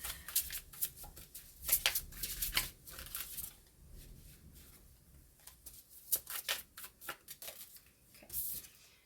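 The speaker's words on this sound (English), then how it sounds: "So this is not an English deck, but I'm still going to shuffle it" A deck of non-English playing cards is shuffled close by, with repeated crisp riffling bursts and soft flutters spread across the stretch, at fairly low level.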